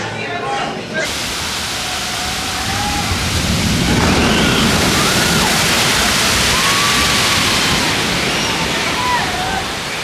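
Water crashes and rushes on a water ride at Universal Islands of Adventure in Florida, a loud, steady roar of splashing that lasts throughout, with faint voices and shouts over it.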